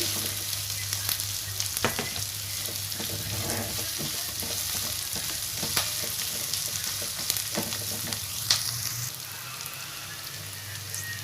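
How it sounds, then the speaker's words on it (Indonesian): Kaffir lime leaves stir-fry in oil, giving a continuous crackling sizzle broken by repeated scraping stirs and soft clatter, loud and close, with no speech. "Aduk sampai layu dan tercium wangi."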